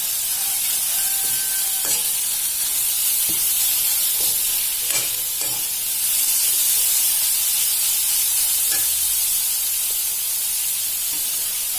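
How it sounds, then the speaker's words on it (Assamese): Grated carrots sizzle and hiss in a hot pan for carrot halwa, a constant close frying crackle punctuated by scraping stirring strokes. "এইখিনি এতিয়া অকমান সময় ভাজিব লাগিব"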